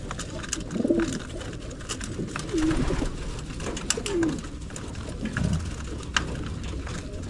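Pigeons kept for hand-feeding coo in several low, throaty phrases spaced a second or two apart, fairly close, over a steady outdoor background with no talk.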